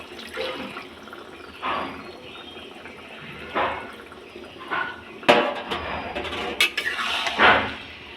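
Water poured into a pan of cooking fish curry, splashing and gurgling in uneven bursts with clinks of the pan, growing louder and busier toward the end.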